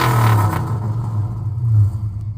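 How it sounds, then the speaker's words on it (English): A Dodge Charger with a swapped 392 V8, long tube headers, no cats and a MagnaFlow exhaust through an X pipe revs in a snowy Michigan garage, a loud, deep rumbling burst that swells, eases briefly, then surges again. "so here's a little rev."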